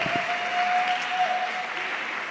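Applause from an audience at a school break-fast gathering and SNBP 2025 results announcement, a steady dense wash of clapping carrying on at moderate level, with a faint thin tone running underneath.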